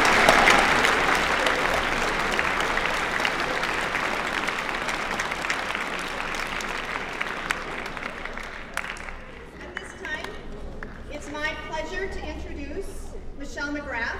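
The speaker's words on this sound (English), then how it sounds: "Give yourselves a round of applause." A large crowd at a high school award ceremony applauds steadily for several seconds, the clapping thinning out toward the end as a few voices and cheers come through.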